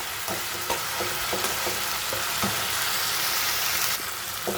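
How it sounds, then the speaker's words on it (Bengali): Fish spice paste of ground onion, garlic and ginger sautéing in a pan, with a steady close sizzle and scattered stirring scrapes throughout. "এই যে আমি এখানে মাছের মশলার কষাতে দিয়ে দিলাম"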